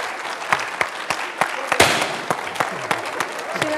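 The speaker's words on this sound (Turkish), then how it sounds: "Kocaman alkışlar Hakan'a." A studio audience on a Turkish comedy show applauds: a steady, moderately loud patter of many hands, with a few sharper individual claps standing out.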